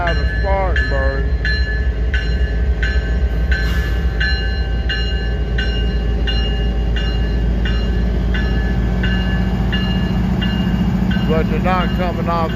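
A train in Abbeville rumbles steadily and loudly nearby, a diesel engine droning continuously while someone talks over it.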